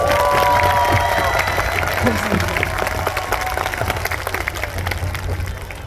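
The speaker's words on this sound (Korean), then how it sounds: "두 손 머리 위로 쫙 올려서 네 박수 한번 부탁드리겠습니다" Outdoor festival concert crowd applauding and cheering, a broad, continuous mix of clapping and shouts that gradually softens, with voices and some talk mixed in.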